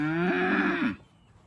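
A farm cow, a mother with a young calf, gives one loud, close moo with a rising then steady drawn-out tone lasting about a second, followed by quiet outdoor background.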